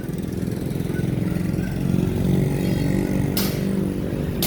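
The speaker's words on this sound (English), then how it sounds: "Above the noise of all these motorcycles and people," Motorcycles pass on a busy street, their engines buzzing and revving steadily close by for several seconds with a constant droning mix of traffic noise.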